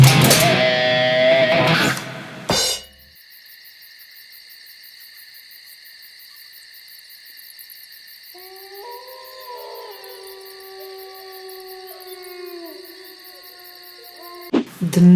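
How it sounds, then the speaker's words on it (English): Pinch harmonics on an electric guitar: squealing high sustained tones ringing out with slight bends, following a short burst of louder playing and ending with another strum. "The most commonly used type of artificial harmonic is the pinch harmonic"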